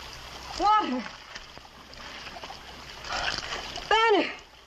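Water splashes in an outdoor frontier setting, with two loud bursts of splattering amid softer trickling and a voice calling out between them.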